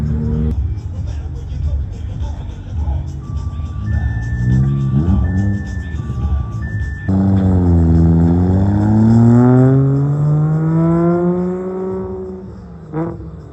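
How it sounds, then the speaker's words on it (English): Cars leaving a Greddy car meet, engines revving and accelerating as vehicles pull away nearby, one rising pitch sweep after another, with people chatting and crowd murmur underneath. "Cars heading out."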